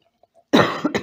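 A single harsh cough bursts out after a moment of near silence, loud and close, with a second shorter cough following right after.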